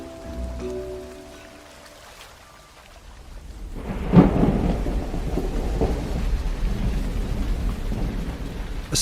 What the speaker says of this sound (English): A spring downpour has descended on Hushin Isle,